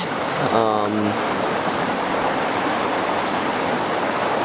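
Cold river water rushes steadily below a dam spillway on a Maine salmon river, a loud continuous roar filling the whole stretch, with a brief voice heard near the start.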